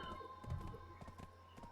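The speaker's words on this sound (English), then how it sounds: "Somebody's following me on their horse." Horse hooves clopping in the online game Black Desert Online, a quiet, steady run of soft hoofbeats heard at a distance under a faint background hum.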